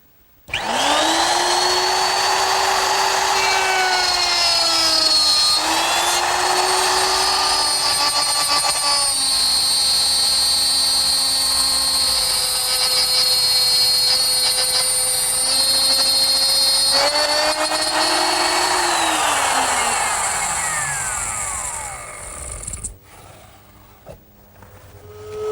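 A woodworking router runs at a high, steady whine while cutting a tapered joint, holding for about twenty seconds before spinning down and stopping, followed by a few faint shop clunks.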